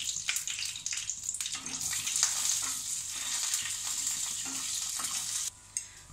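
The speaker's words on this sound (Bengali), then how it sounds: "বাদামটাকে ভেজে নেবো একইভাবে।" Peanuts frying in a little oil in a wok, producing a continuous soft sizzle with brief stirring rattles, fairly quiet overall.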